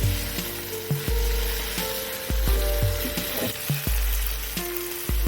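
Egg brain masala frying in a pan over medium heat, a loud steady sizzle broken by repeated spatula knocks and scrapes against the pan, close up.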